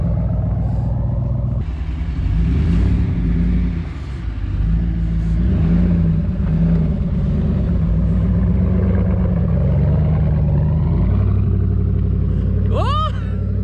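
A RAM 1500 pickup truck's engine revs and roars as the truck slides sideways on a snowy city road, with loud surging rumble, repeated revving, people talking over it and a sharp squeal near the end.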